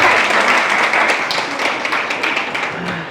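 A crowd of teachers at a Ludhiana event applauds, a steady dense clatter of many hands that stays loud and fades slightly toward the end, with no talk over it.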